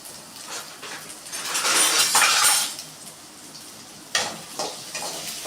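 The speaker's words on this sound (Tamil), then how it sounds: "இப்போ எண்ணெய் சூடானதால வெங்காயம் வந்து நம்ம போட்டுக்கலாம். வெங்காயம் பச்சை மிளகாயும் போட்டுக்கலாம்." Onions and green chillies dropped into hot oil in a pan, a bright hissing sizzle that swells for a couple of seconds and fades, followed by a sharp utensil knock and a quieter sizzle, close and without talking.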